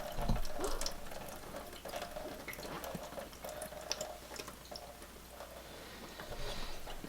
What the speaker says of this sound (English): Just gonna dump out the water that's in there.